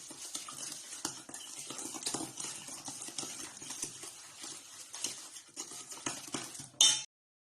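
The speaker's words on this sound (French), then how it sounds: "Puis on va mélanger avec une cuillère." A spoon stirs madeleine batter in a bowl, giving continuous close scraping and soft clinking against the sides, with a sharp clatter at the very end as the mixing stops.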